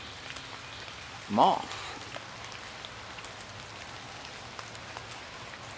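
Light rain falling outdoors at a house during a handyman's home-repair visit, a faint steady patter throughout, with a single short spoken word and a brief louder thump early on.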